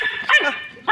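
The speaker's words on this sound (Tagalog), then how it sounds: "Ang iingay ni Max." A dog gives a short, close yappy bark, a single sharp burst with a brief second yelp starting at the end, heard on its own.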